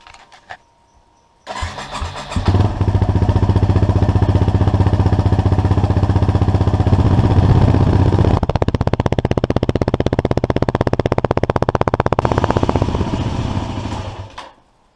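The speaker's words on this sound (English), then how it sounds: "Step 1, warm up the motor." A Yamaha WR250R motorcycle engine starts up after a short quiet pause, then idles loudly and steadily close by, with a slight rise in revs partway through before winding down near the end.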